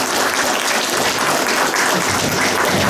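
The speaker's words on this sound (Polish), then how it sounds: "pożegnajmy oklaskami wszystkich" At a public discussion event in Warsaw, the crowd gives sustained applause as all the candidates are sent off. Many hands clap in a thick, unbroken roar that stays loud and level throughout.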